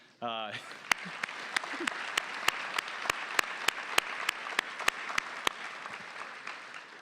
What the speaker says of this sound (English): I want to do an extra applause for all those student presenters.